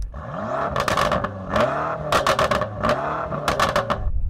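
A BMW M8 with its standard exhaust, valves held open, revs repeatedly in short bursts, rising and falling with sharp crackles between each blip, loud and close.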